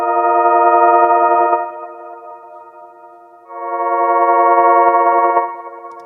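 A pitched-down cassette-case sample processed with EQ, compression and a stutter effect now rings as a loud sustained tonal chord, cutting out and swelling back in two long blocks with slight flutter.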